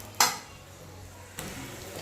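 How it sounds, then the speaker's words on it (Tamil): Chopped onions hit hot coconut oil for a chicken curry: a sharp clatter, then a crackling sizzle that rises near the end, with no speech. "எண்ணெய் நல்லா காஞ்சிருச்சுங்க. இப்போ வெங்காயம் போட்டுக்கலாம்."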